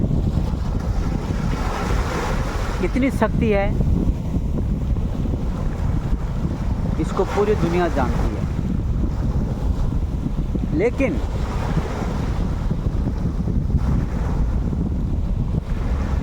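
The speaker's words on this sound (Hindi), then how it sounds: "ये समुद्र की लहरें हैं" Sea waves wash in a constant, full rumble with wind noise on the microphone, heard under someone speaking throughout.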